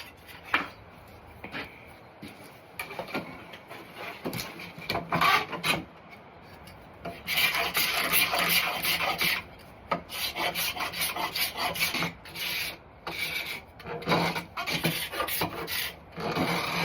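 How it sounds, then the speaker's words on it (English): A card scraper smoothing a wooden axe handle, with rhythmic rasping strokes that come sparse and separate at first, then turn dense and continuous, close and fairly loud. "So I'm gonna take card scraper and smooth out the handle, just like this."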